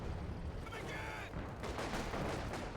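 A black half-track's machine gun fires a burst in a Company of Heroes 2 battle, a rapid rattle of shots heard at a moderate distance amid continuous battlefield din, with a commentator's voice talking over it.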